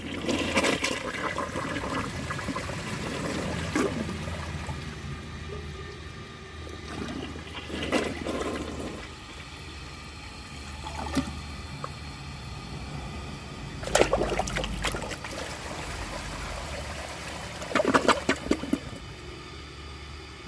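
A 1998 Kohler Wellworth Ingenium toilet flushing several times, with loud rushing water, gurgling drains and refill trickles between the sharp flush bursts.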